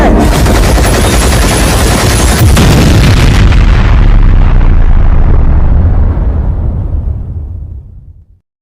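A cartoon explosion blows something up in a single loud, sustained boom with crackling rumble that dominates for several seconds, then fades and trails off to silence.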